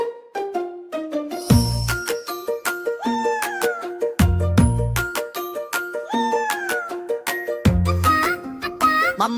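A cat's meows ring out over a bright children's cartoon song, as several rising and falling cries weave between plucked melodic notes and regular low bass thumps.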